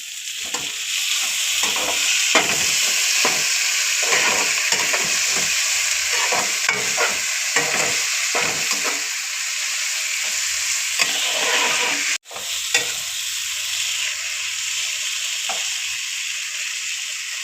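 Browned onions and tomatoes frying in a pan for a gram-flour scramble, a loud, steady sizzle with repeated scraping stirs through the first half, then a continuous hiss with a sharp knock near the end.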